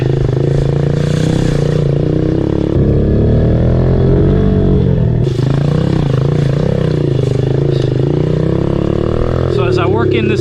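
Older Honda CRF110 pit bike engine running while riding through wooded trails, a loud, close buzzing drone that rises and falls with throttle changes, with someone talking over it throughout.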